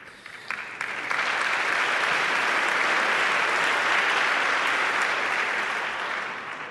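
Sustained loud applause from a large audience fills a formal hall during the Chilean president's 2023 annual public address, a dense continuous roar of clapping that swells quickly and holds steady before easing slightly at the end.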